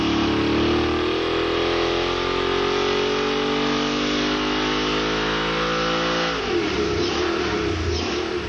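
An engine running under load on a dynamometer during a fuel catalyst test run, a loud sustained roar whose pitch climbs steadily for about six seconds before breaking off into rougher, noisier running.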